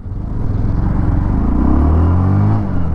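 Bajaj Platina 110 Fi motorcycle engine, a 2025 model, pulling away in first gear on a highway, a steady close rumble with rising pitch as the revs climb, alone without talk.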